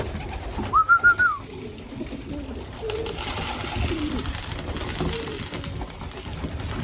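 Racing pigeons in a loft coo close by, a short burst of throaty coos early on, followed by softer murmuring and light rustling from the birds.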